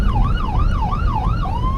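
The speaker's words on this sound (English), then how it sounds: "Getting passed here by a police car." A police car passes nearby with its siren wailing loudly, the tone sweeping up and down in a steady rhythmic cycle over rumbling traffic.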